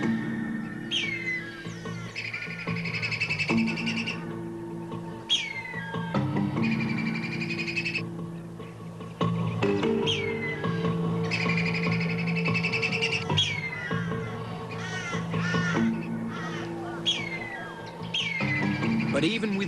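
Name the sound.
crows and kites calling around a wedge-tailed eagle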